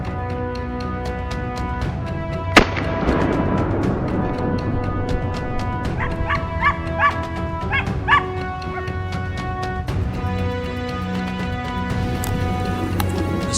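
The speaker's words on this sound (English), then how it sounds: "The sound of hunting dogs echoed from the other side of the mountain slope" Hunting dogs bark and yip on a mountain slope during a wild boar hunt, a steady run of short, overlapping barks at moderate distance over a busy background.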